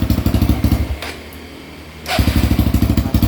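A Kawasaki KLX140L dirt bike engine runs with a loud, close, pulsing bark, cuts out into a second of near silence, then fires up again and settles into the same rapid, throbbing idle.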